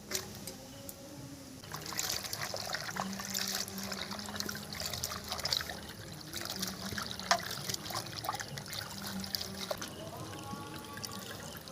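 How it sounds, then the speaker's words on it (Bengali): Malabar spinach leaves being washed by hand in water, giving steady trickling, splashing and dribbling sounds close by throughout, with soft handling noises and no talking. "পুঁই শাকগুলো ধুয়ে নেব।"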